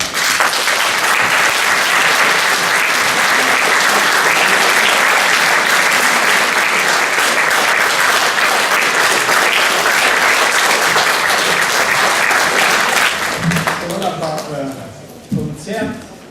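Sustained, dense applause from a concert-hall audience at the annual concert of a male choir in the Radomlje cultural hall, loud and even for about thirteen seconds before fading as a voice begins speaking.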